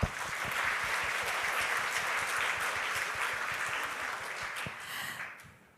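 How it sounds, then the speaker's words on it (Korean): At an entrance ceremony for a security leadership program, a large hall audience of 320 new students applauds in congratulation, a steady dense clapping that carries on evenly, then fades out at the end. "320명의 주인공 여러분들 다시 한번 축하의 박수 보내드립니다"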